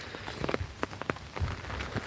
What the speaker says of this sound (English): It's pissing down with rain today